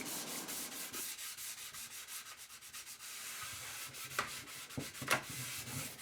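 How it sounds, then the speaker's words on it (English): Steady rasping sandpaper strokes sanding wooden splines flush with a frame, a continuous scratchy rubbing with short pauses and a few louder scrapes near the end, close up with no talking. "I'm just sanding them down because you want it to be flush with the wood."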